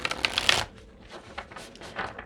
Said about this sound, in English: I'm just going to pull an ascension card.